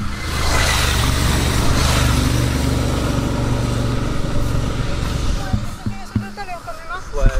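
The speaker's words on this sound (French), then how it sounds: "Il y a la moto." A motorcycle engine drones and revs close by in a loud, steady rumble that carries for several seconds, then eases off as voices talk over it near the end.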